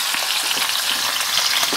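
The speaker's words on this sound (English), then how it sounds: "Now I'm frying" Trout sizzles in beef tallow in a skillet, a loud, steady, dense crackle with fine popping that never lets up, and no voices.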